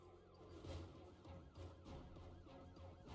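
Car alarm siren wailing steadily in Project Zomboid, powered by a long-lasting car battery, a repeating rising-and-falling tone heard continuously at moderate level with no talk over it.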